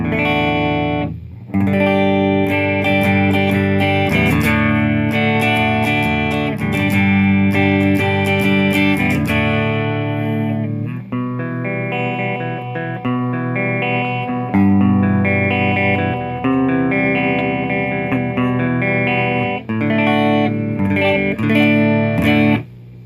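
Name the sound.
Fender Hot Rod Deluxe III guitar amp, clean sound, no reverb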